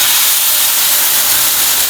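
Wheat dosa batter hits a hot pan and sizzles with a loud, steady, close hiss that holds evenly throughout, with no talk over it.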